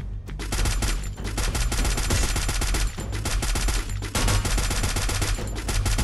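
Loud automatic gunfire in the mobile shooter Free Fire hammers out in long, rapid bursts with only brief gaps, close and continuous throughout.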